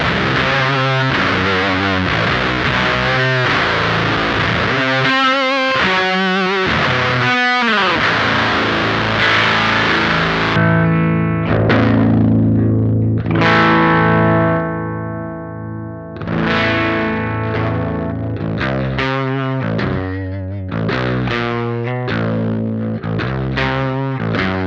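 Electric guitar through an LBF Fuzz Cauldron pedal set to its Nuzz fuzz mode: thick, saturated chords and riffs, with sustained notes ringing out, then choppy staccato stabs, loud and up close.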